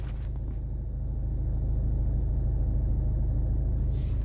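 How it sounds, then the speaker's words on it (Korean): Idling engine of a Kia Sportage SUV, a 2000cc entry-level model, heard from the driver's seat as a loud, steady low rumble with a pulsing drone, continuous and unbroken, with no talking. "소음과 진동이 사실은 너무 큽니다."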